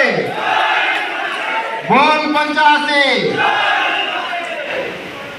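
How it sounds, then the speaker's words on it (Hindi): An audience at the 6th Indian Student Front convention in Balasore applauds in welcome: a dense, steady wash of clapping throughout, with a brief burst of shouted voices rising over it in the middle. "जोरदार तालियां देकर हम स्वागत करते हैं"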